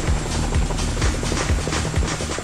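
Chinook tandem-rotor military helicopter close by, its powerful downwash roaring as a steady loud broadband rush with a rhythmic low rotor thump repeating about twice a second.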